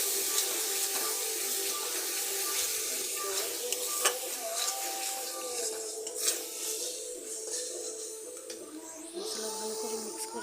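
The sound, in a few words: stirring spice paste in oil for chicken curry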